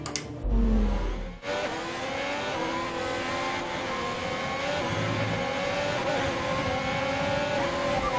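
A pack of F1 race cars in F1 2021 on PS5 accelerating off the grid at the Australian Grand Prix, a loud, dense roar of high-revving engines that swells and holds, with a sharp burst of revving at the very start.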